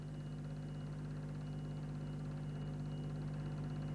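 A diesel rally car at a 1970 New Zealand trial at Tippings Quarry: a steady, low, droning engine hum with no change in pitch, heard alone at a distance.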